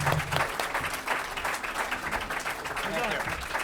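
Audience applause at an awards luncheon in a ballroom, a full steady round of clapping from a large crowd with some voices mixed in underneath.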